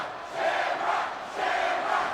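A wrestling arena crowd of 19,404 roars in two sustained swelling waves of cheering, loud and broad, with no talk over it.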